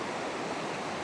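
Fast-moving water in a shallow trout stream a few feet deep rushes with a steady, even hiss, a brief moment of continuous flow with no voices.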